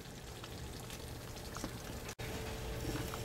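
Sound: pumpkin dinner vegetable mixture steaming and boiling in pan

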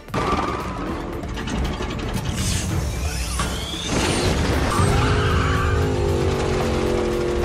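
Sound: car engine boosted with nitrous (NOS), accelerating

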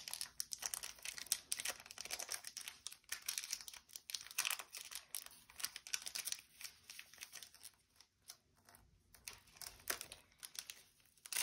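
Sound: tearing open a trading card booster pack wrapper

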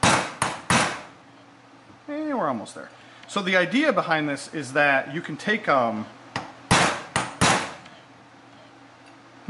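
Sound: framing hammer striking a brass punch

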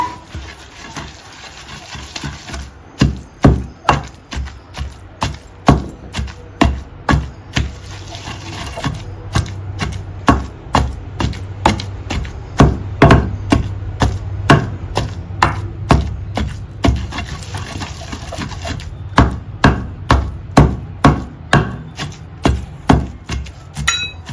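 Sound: pounding gongura leaves in a mortar for chutney

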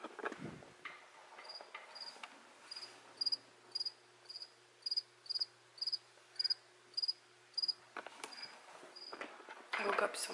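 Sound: cricket chirping indoors

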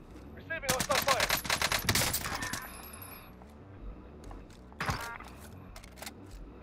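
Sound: gunfire in the video game Call of Duty Warzone

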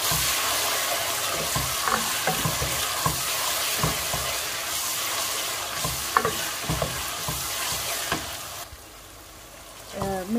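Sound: onion, ginger, garlic and tomato frying in a pan

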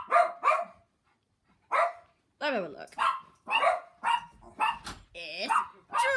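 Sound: dogs barking

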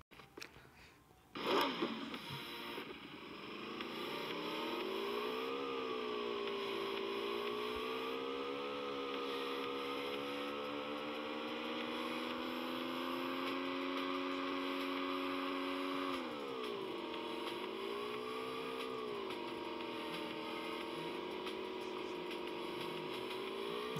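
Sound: motorcycle engine in PUBG Mobile video game

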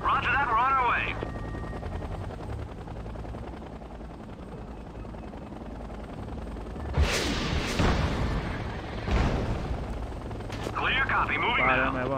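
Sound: Apache helicopter and gunfire in Act of War video game

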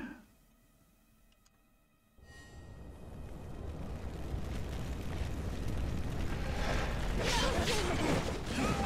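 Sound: player character burning, fire in video game Wo Long: Fallen Dynasty

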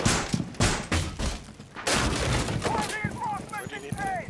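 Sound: gunfire in video game Rainbow Six Siege

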